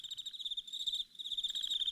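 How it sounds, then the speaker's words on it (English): Steady crickets chirping alone in a quiet space, a continuous high trilling pulse that dips briefly midway before resuming, with no voices over it. "or just crickets?"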